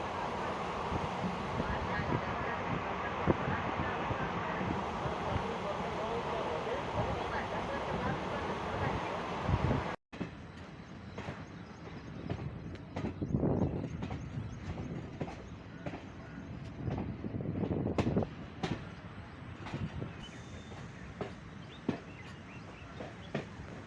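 Vishwamanava Express racing at high speed through Desur: a loud, steady rail roar and wind rush that cuts abruptly to a lower rumble with sporadic clacks and rattles.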